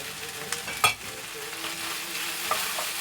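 Onion goes into a hot pan with garlic and ginger already frying for chilli and black bean. A continuous close sizzle carries a few clinks and stirring knocks.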